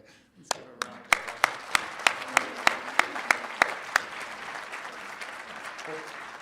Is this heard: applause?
yes